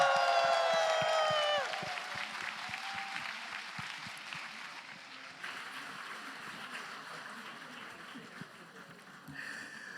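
A church audience at an autumn special revival service applauds after a special song by a choir group, a broad steady wash of clapping that carries on as the singing fades, with a crowd murmur and a few cheers.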